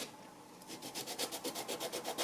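A sand block rubbing along a leather edge, soft rhythmic rasping strokes repeating quickly back and forth, close and quiet with no talk.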